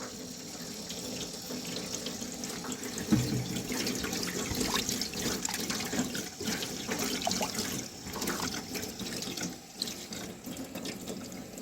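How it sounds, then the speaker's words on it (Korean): Running tap water steadily rinses blanched mushrooms in a kitchen sink, a close, continuous splashing and trickling stream that shifts slightly as the mushrooms are moved under it, with no talking. "자 이제 데쳐서 한번 물을 헹궈 주니까 물도 맑죠?"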